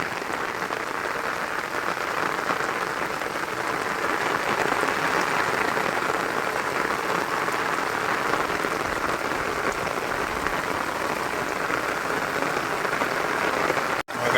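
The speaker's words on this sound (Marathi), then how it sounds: "पाऊस बघा मस्त आलाय" Heavy rain pours steadily on surfaces outdoors near a fishing spot by water, a dense, even hiss that stays loud and close for the whole stretch, with no talk.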